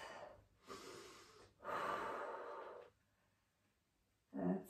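A deep breath taken during a floor stretch while sitting back onto the calves, heard as two breathy rushes, the second long and fuller, then quiet before another short breath at the end.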